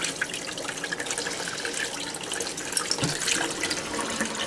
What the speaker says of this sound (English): Let me wet it one more time so we can look into it easier.